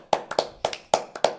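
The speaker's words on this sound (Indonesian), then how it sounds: "Tepuk tangan." A handful of close, sharp hand claps ring out in an uneven rhythm, roughly six or seven distinct slaps with short gaps between them, heard alone without any talking.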